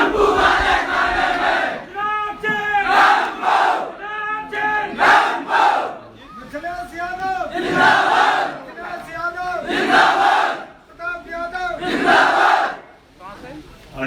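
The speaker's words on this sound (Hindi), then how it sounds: "जोरदार तालियों से स्वागत करिए" A large crowd at an election rally gathering in Mustafabad, Firozabad roars and shouts in welcome, swelling and fading in loud waves over about fourteen seconds, with a voice calling out over the noise.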